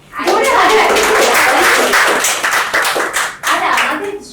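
Loud, dense clapping from a small audience at a Bengali couples' game show, rising sharply and holding steady, then thinning briefly before a final burst, with voices and some laughter mixed in.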